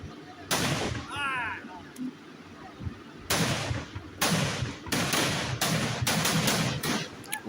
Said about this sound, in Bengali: এনজয় করুন আতশবাজি।